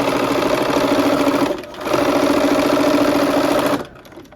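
A sewing machine stitches quilt fabric in two steady humming runs of rapid needle strokes, close and loud, with a short pause between them before it stops.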